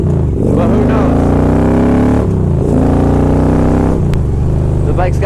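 A Victory touring motorcycle engine revs loudly and close, rising and falling in two or three throttle pulls with no talking over it.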